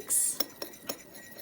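A utensil stirs soy sauce dressing with olive oil, vinegar and black pepper in a bowl, giving a brief swish followed by three quiet clinks against the side, close and soft with no voices.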